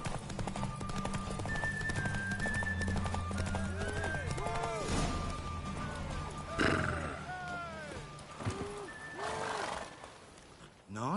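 Horses neigh and whinny during a race in the video game Witcher 3, several rising calls over a steady rumble and clip-clop of galloping hooves, with busy game sound throughout.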